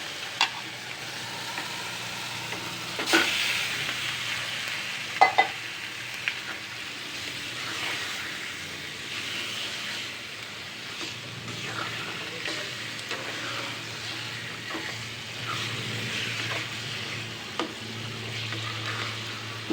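Spices and meat sauté in a pan with whole spices, a steady close sizzle with occasional scrapes and clinks of a spatula running throughout, no voices.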